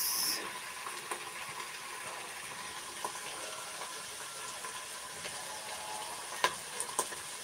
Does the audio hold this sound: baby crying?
no